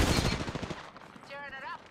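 Rapid video game gunfire crackles loud and close in dense bursts during a squad firefight, then fades as brief electronic warbling tones take over.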